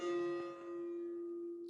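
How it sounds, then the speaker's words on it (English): Church bell ringing with a strong sustained tone and rich overtones, a single loud strike decaying slowly across the moment, with no talk over it. "Sorry about the bells going off."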